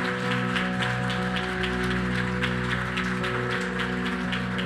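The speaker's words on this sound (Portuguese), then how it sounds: "Dá uma salva de palmas aí, gente." Clapping from a church congregation at a Lagoinha Toronto service, faint and fairly quick, sitting under sustained organ-like keyboard tones that hold steady throughout.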